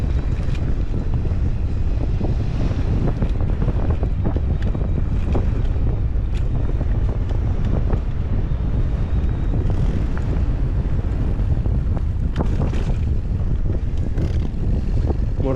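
Strong wind buffets the microphone throughout a spring ride through coastal Crimea between Ordzhonikidze, Koktebel and Kurortnoe, a loud, continuous low rumble with gusty swells and no voices.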